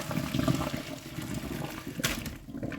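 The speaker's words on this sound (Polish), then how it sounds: "Broku po ugotowaniu odcedzamy" Water from boiled broccoli is poured off through a strainer in a kitchen. It makes a steady splashing, trickling rush that is close and fairly loud, with a brief louder gush near the end and no talk.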